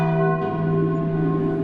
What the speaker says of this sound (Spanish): trató de asegurarse de que era solo eso, campanas arrastradas por el viento